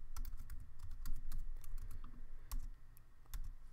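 Steady typing of HTML code on a computer keyboard, crisp clustered keystrokes in an irregular rhythm, close and moderately loud with no talking.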